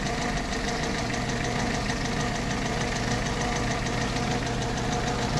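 A Toyota Corolla small-body engine idles after an oil enhancer has been added, giving a loud, steady, close-up mechanical drone with a continuous fine knocking rattle. There is no talk.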